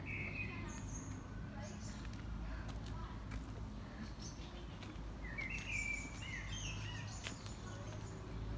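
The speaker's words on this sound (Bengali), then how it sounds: "কোথায় ডাকছে পাখি?" Birds call in a park with scattered short chirps and tweets, a few brighter bursts near the start and middle, faint against a low background hum while people talk nearby.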